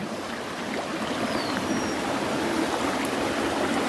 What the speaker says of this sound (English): the water is actually flowing from that side.